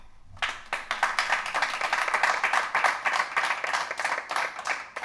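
An audience at a school district policy committee meeting breaks into steady applause, many hands clapping densely and evenly for about five seconds, loud and close, with no talking over it.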